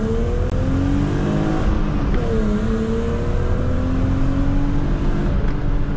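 A BMW E36 320i coupe's engine is held at full throttle during sport driving on a curvy track road. The engine note is loud and close, rising and falling steadily as it revs, with no talk.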